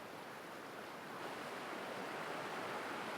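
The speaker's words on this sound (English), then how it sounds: "This water is moving very quickly. This is a steep river" Fast-flowing water of a steep river rushes in a constant broadband roar, fairly steady and close, with no talking.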